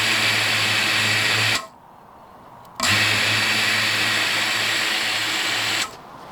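Donut-shaped propellers on an FPV drone spin up with a loud, steady high-pitched whine, cut out for about a second, then spin again before dropping away.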